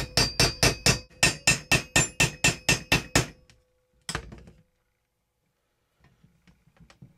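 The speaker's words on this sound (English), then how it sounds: "And I can drive this screw all the way through." A self-tapping screw is driven into a motorcycle frame with an impact driver: a rapid run of about fourteen sharp, evenly spaced hammering blows, then a single clack and faint handling noises in near silence.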